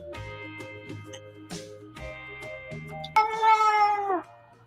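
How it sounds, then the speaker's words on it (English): Pet cat Sheldon meows repeatedly in a series of short, tonal calls, ending in one longer, louder, drawn-out wail, close and clear with no talking. "My cat always talks back."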